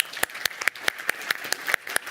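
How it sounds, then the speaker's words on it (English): Audience applause at a book announcement event comes as sparse, distinct claps in a quick, regular rhythm. It sounds like only a few hands are clapping, with nothing else heard between the sharp hits. "If we could give a round of applause for Russell Brunson."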